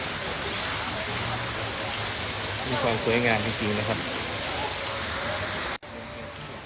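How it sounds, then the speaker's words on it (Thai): Waterfall at a Buddhist temple in Thailand gives off a constant rushing hiss of falling water, while someone speaks briefly over it. "มีน้ำตก"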